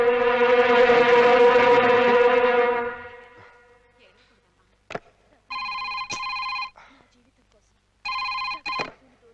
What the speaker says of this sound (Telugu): కాంచనా [[మీ అమ్మగారు ఫోన]]్